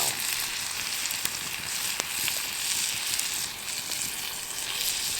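Potatoes frying in a pan over a campsite stove after a snowstorm, a steady bright hiss and sizzle with occasional small pops, continuous and close with no talking.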